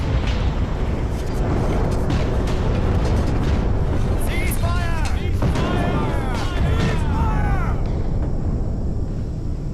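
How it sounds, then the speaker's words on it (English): The artillery barrage at Gettysburg is a loud, continuous wall of booming rumble, with shells whistling overhead in rising and falling streaks partway through. The thunder holds steady for the whole stretch. "The artillery barrage can be heard in Harrisburg, Pennsylvania, 40 miles away."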